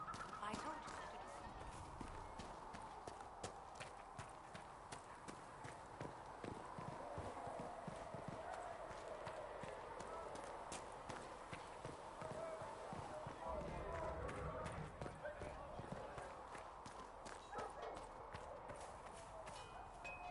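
Horse hooves clip-clop steadily and fairly faintly in the fantasy game Dragon Age: Inquisition, an even rhythmic trot running under a voice talking throughout.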